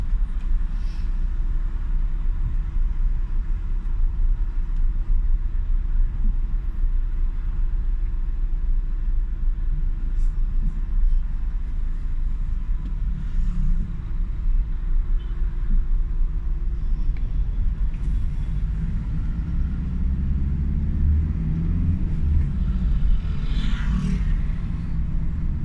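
Steady low engine rumble and road drone fill the cabin of a 2019 Volkswagen Crafter van while driving, continuous and even throughout, with occasional faint knocks and rattles and a slight swell of engine noise near the end.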